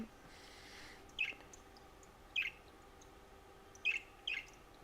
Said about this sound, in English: Bird call? What?